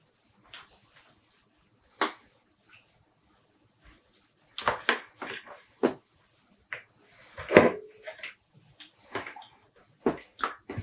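Water runs and splashes into a container being half filled for dyeing yarn at home, heard as scattered short gushes and sloshes separated by quiet gaps.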